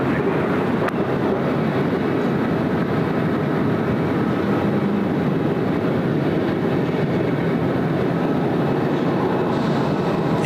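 A Qantas jet taking off from runway 34 left at Sydney Airport, a loud, continuous broadband engine roar that holds steady throughout without any talking.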